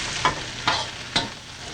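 Snow peas, celery and other vegetables stir-fry in a hot pan with a steady sizzle, broken by three sharp scrapes of a spoon pushing the food around, close and clear with no voices.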